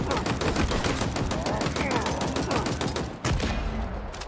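Dense, rapid gunfire in the shooter Halo Infinite rattles almost without pause, with sharp overlapping shots and a brief gap near the end before firing resumes.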